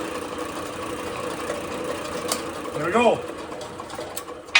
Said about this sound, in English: time to make a big hole in this metal